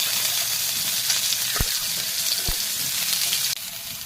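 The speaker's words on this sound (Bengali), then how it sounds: "তেল দিয়ে দেই, আলু উস্তে দিয়ে একটু ভাজে নেবো" Potatoes and bitter gourd sizzle and crackle in hot oil in a pan, a dense steady frying hiss broken by two sharp utensil clicks.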